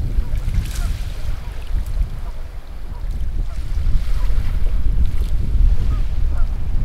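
Boat on open water with surf and wind, a steady rushing wash of waves and wind noise that swells slightly louder toward the end, no voices over it.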